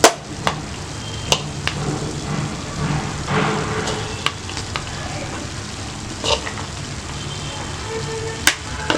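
Poriyal vegetables frying in a pan while being stirred, a continuous close sizzle broken by sharp scraping clacks of the spoon against the pan, with no voices over it.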